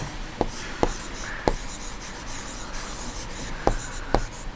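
A pencil scratches over paper while a rough geometry sketch is drawn, giving soft continuous strokes broken by several sharp taps and clicks.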